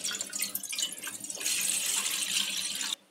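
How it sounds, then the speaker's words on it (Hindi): Water pours steadily into a deep cooking pot, a continuous splashing rush that grows fuller and louder partway through, then cuts off abruptly at the end. "अब एक गहरे बर्तन में लेंगे पानी"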